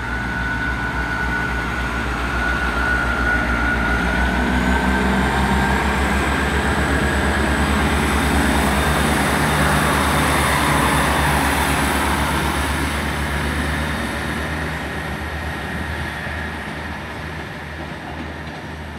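Great Western Railway class 158 diesel unit pulls out of a station, a loud, steady engine drone with rising whine and rail rumble sustained close by for the whole stretch, easing slightly toward the end.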